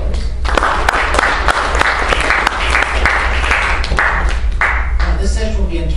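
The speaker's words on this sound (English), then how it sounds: "So we give them a nice welcome round of applause." A panel audience at a university forum gives a welcoming round of applause, loud, dense clapping with sharp individual claps that carries on for about five seconds before thinning out.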